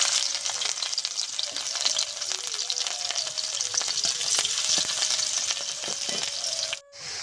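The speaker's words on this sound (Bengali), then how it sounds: "আমি কড়াইতে দিয়ে দেব সরষের তেল, কুচানো আদা, রসুন আর কাঁচা লঙ্কা" Mustard oil with chopped ginger, garlic and green chili fries in a kadai, giving a loud, steady, close sizzle that runs unbroken and dips briefly just before the end; nobody speaks.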